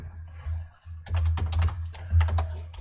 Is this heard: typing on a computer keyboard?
yes